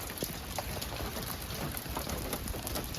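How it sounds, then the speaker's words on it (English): Steady rain patters on a surface nearby, a dense continuous hiss with scattered individual drops. "It's been raining for like 24 hours."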